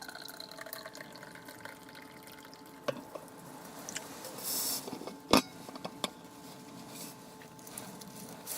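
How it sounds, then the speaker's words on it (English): Coffee being poured into a cup outdoors on a snowy landscape outing, a soft liquid trickle with a few faint clinks, close and quiet, with no talking. "you just pour yourself a coffee"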